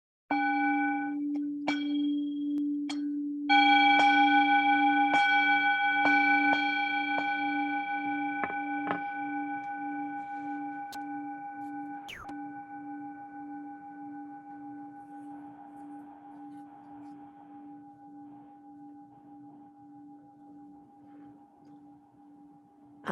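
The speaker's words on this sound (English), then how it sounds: "I use my Tibetan bell. It's not a bell, it's a bowl, actually." A Tibetan singing bowl is struck several times in quick succession, then left to ring in a long, pure sustained tone that slowly fades, with a few lighter taps along the way.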